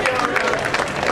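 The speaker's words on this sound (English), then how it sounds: "Give her another round of applause." A crowd at a justice rally for Oscar Grant applauds in a brief, dense burst of clapping, with voices mixed in.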